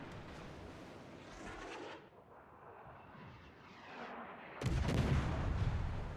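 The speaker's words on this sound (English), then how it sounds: "Ooh, that Kolberg took a lot of torpedo strikes." Torpedo strikes slam into a ship in the World of Warships naval combat game, heavy booming impacts with rumbling tails, the loudest blast arriving near the end after a quieter stretch.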